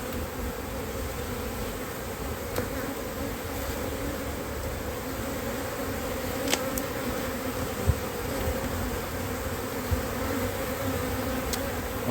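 Honeybees buzz around hive frames as a beekeeper works a small nucleus hive in late season, a dense continuous drone with occasional nearer passes of individual bees, and no talking.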